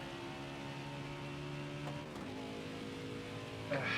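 A steady synthetic fake engine drone from a video game electric muscle car holds level, then pitch shifts suddenly as if shifting gears, ending with a brief higher burst of revving.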